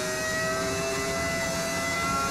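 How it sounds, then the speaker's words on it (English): Formula One racing car engine in the F1 25 video game, a steady sustained whine with high tonal harmonics held at a constant pitch, loud and alone with no talk. "Yeah, dude, I love this engine sound"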